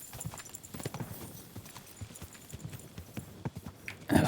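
Horse hooves clip-clopping in a medieval video game, with quiet, uneven hoofbeats plodding along at a walking pace and a louder thump near the end.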